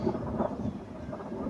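Rolling thunder rumbles over steady rainfall in a hill region at the start of the rainy season, a continuous low roar with soft rain patter and no voices.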